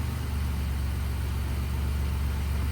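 A Jeep engine idles steadily nearby as the vehicle is eased forward and back, a continuous low rumble with no talk over it.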